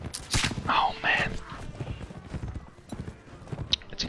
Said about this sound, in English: They have those fast horses.